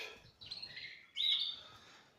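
Birds chirp and tweet in two short, fairly faint bursts over a quiet background, with no voices.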